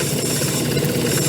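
Continuous rumbling vibration from a running Childs and Co. lathe whose drive belt has a flat spot and bounces as it turns, a steady close mechanical drone with no pauses.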